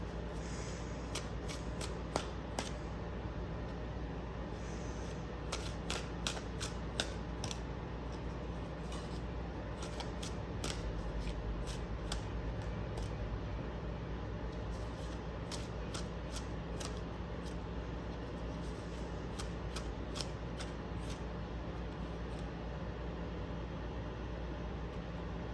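Tarot cards being shuffled and laid out on a table, with repeated crisp riffling and flicking bursts over a steady low room hum, close and fairly quiet with no talking.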